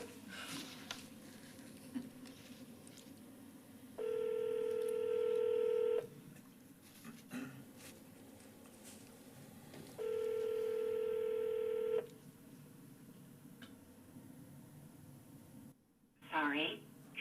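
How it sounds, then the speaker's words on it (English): Telephone dialing during a board of education meeting, with two long steady two-tone beeps separated by pauses, each lasting about two seconds, over faint room noise and a brief chirpy signal near the end. "So I'm dialing the right number."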